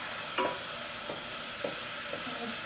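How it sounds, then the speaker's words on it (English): Honey sizzles steadily in a hot pan on the stove for chocolate Easter nests, a continuous bright frying hiss with a few soft scrapes and clicks from stirring. "You can hear it sizzling."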